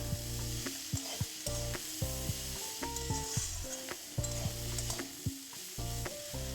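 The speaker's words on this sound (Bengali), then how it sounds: "তারপর মশলাগুলো সব ভালোভাবে সবজির সঙ্গে কষিয়ে নিয়েছি।" Vegetables frying in a pan with turmeric and chili powder, a continuous close sizzle with repeated stirring scrapes, while music plays throughout.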